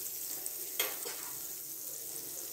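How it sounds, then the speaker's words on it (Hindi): Bread frying in melted butter in a hot pan for peanut butter French toast, a steady soft sizzle with a brief louder crackle near the start, heard alone without talk. "हमने यहाँ पर पैन गरम कर लिया है और मैं इसको फ्राई करूँगी बटर में"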